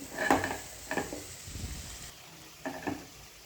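Bean seeds frying in a pan of tomato curry give off close sizzling bursts that swell and fade with each stir, with quieter crackling between the pulses and no voices.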